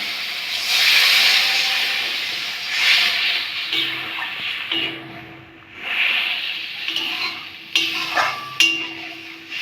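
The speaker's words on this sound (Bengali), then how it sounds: "এবার আমি জল দিয়ে দেবো।" Water splashes into spice paste frying in oil in a pan, giving a loud sizzling hiss that rises and falls as the mixture is stirred, with occasional clinks of a utensil against the pan.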